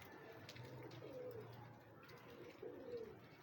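Pigeons in a domestic loft coo in two soft, rolling calls, close and fairly quiet over a steady low background hum.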